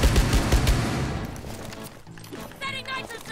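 An explosion goes off in Rainbow Six Siege, a loud, crackling blast at the start that tails off into rumbling debris and scattered game sounds, with voices talking over it.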